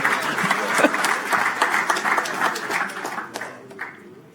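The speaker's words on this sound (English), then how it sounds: "I think he deserves another round of applause." An audience at an evening meeting applauds, with close, distinct hand claps that build quickly and then thin out and fade toward the end.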